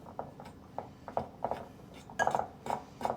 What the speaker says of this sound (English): I'm mixing mine with a fork this morning